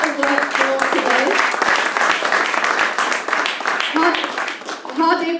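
Loud, close applause from a room full of people at a Sikhs for Labour launch event, dense clapping sustained throughout while voices talk and call out beneath it, easing near the end.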